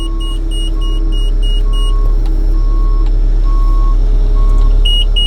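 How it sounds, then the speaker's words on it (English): A tractor's gear warning buzzer beeps steadily in a regular on-off rhythm over the loud, constant rumble of the idling engine. "You just get a buzzer going for a couple seconds when you put it in gear"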